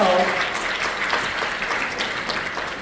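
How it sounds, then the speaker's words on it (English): Audience at a conference applauds after a card trick, a moderately loud, continuous wash of clapping that eases slightly over a few seconds, with some voices faintly underneath. "A round of applause"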